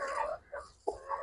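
Fighter chickens clucking in a few short, quiet bursts, close by and without other sounds.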